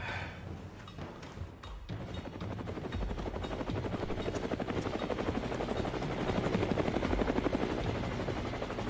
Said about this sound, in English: They're getting their money's worth out of that helicopter